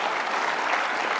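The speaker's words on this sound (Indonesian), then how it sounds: "Oke, kita kasih tepuk tangan" Studio audience at an Indonesian television talk show bursts into steady, dense applause, loud and continuous throughout with no voices over it.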